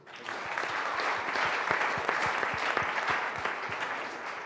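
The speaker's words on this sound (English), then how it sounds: "Clap it up for me." An audience at a CEO panel event breaks into applause, a dense burst of many hands clapping that swells quickly, holds steady for several seconds and then starts to taper.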